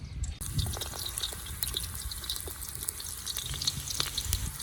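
Onions fry in hot oil with a close, crackling sizzle full of small popping spatters, steady and moderately loud with no voices.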